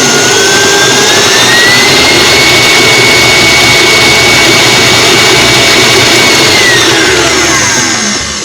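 An electric mixer blends orange zest into Victoria sandwich cake batter, a loud, close, continuous motor whir whose pitch climbs, holds steady, then drops near the end, with no voices.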